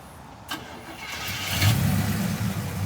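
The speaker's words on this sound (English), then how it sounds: "We just started it up." A 1950 Mercury Eight hot rod engine cranks briefly and catches, then settles into a smooth, low idle that rises in strength, heard close with no talk.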